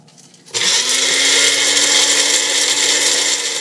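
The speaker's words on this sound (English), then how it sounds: "we're going to put these in a blender and see how it comes out" Blender with a flat blade grinding dried edamame into homemade protein powder, starting abruptly after a quiet moment and then whirring loud and steady with a rattling, gritty texture.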